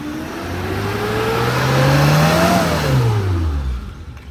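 A used car's engine revs up from idle to a strong peak and drops back down in a single smooth rise and fall, loud and close, with no talking.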